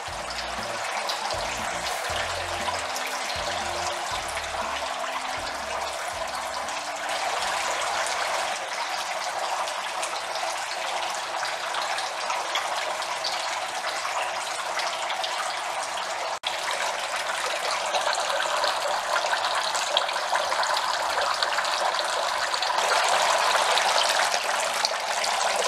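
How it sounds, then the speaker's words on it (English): Water pours steadily from a Veneto garden fountain, a continuous close splashing gush that grows slightly louder and brighter toward the end, with no voices. "Here we show the difference in water flow with and without the String Rock."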